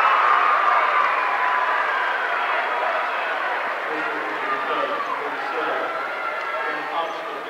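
The Pike Central crowd at a basketball sectional final roars with sustained cheering and applause filling a gymnasium, while a commentator talks over the noise.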